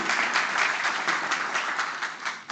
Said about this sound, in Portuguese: Eu peço uma forte salva de palmas e reconhecimento a isso